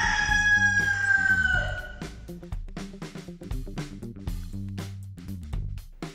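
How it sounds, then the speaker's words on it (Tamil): A rooster crows loudly and close, one long rising and falling call, followed by a string of bright clucks and short calls. "rooster."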